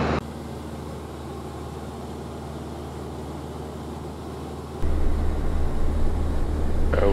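A 1981 Cessna 152 light trainer aircraft drones steadily in cruise, its engine a constant loud hum that thickens and grows louder near the end.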